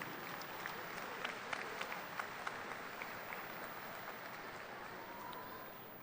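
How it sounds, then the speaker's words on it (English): At the 2019 Topeka West High School graduation, the audience claps in a continuous, moderately distant round of applause, many hands blending into a steady patter with a few sharper claps standing out. "please share a round of applause for Ms. Jennifer Miller and the Topeka West video production classes"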